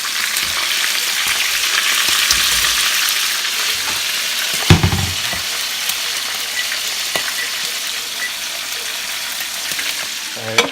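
Keto fried chicken pieces sizzle in hot bacon grease in a pan, a loud continuous crackling hiss with scattered pops and one brief clunk partway through, with no talking.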